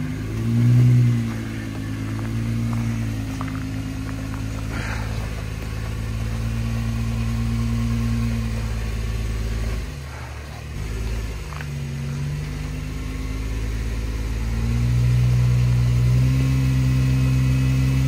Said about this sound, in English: Pete's gonna give it a shot and he's gonna run it, so we'll see what his Jeep does